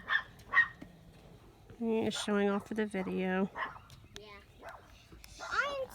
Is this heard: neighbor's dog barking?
yes